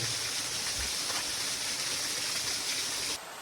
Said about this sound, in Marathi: मंदिराच्या शेजारी असणाऱ्या पाण्याचा झरा खूप आकर्षक होता